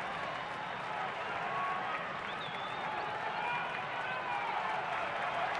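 Large crowd at a Colorado–Chicago Cubs baseball game roaring and applauding steadily throughout, a dense continuous wash of cheering with no gaps.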